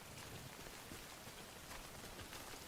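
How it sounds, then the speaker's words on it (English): Steady rain falling on surfaces in the video game Death Stranding, a dense even patter of drops, soft and continuous with no voices. "Guys, it's raining."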